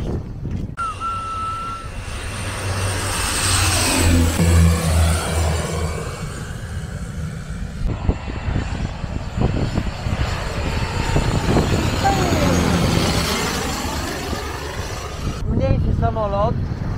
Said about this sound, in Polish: Mniejszy samolot.